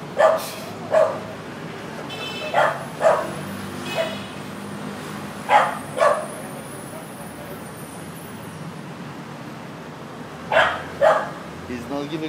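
A dog barks in pairs of sharp, loud barks while trying to get into a bank, the bursts recurring at intervals over faint traffic noise.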